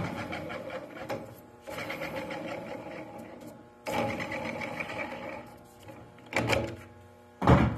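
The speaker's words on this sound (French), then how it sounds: "I'm gonna calibrate this tire with this machine." An HW9000 tire machine runs while being calibrated with a tire, giving several separate bursts of mechanical whirring and rhythmic clattering, each starting and stopping abruptly, with louder thumps near the end.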